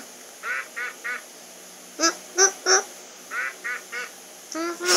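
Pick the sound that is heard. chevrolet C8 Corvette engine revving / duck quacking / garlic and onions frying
duck quacking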